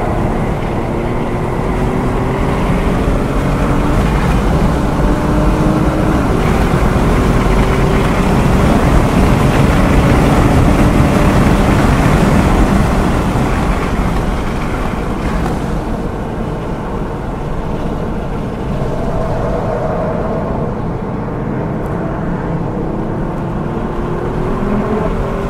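A 2018 Kia Stinger drives fast around a race track, its engine and road roar loud and continuous with steady wind and tyre noise from inside the cabin.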